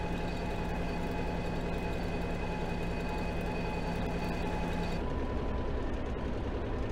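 A freight train driven in the video game Stormworks, a constant loud engine drone and rail rumble with steady tonal hums throughout, shifting in tone partway, with no talking.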